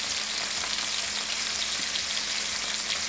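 Chicken breasts frying in hot oil and butter, a dense, steady sizzle with constant fine spattering and crackling, close and loud without pause.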